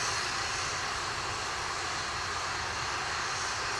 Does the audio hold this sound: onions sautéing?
no